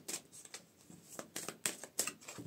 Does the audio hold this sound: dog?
no